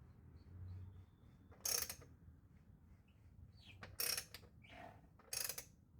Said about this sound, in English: Still makes a noise when you turn it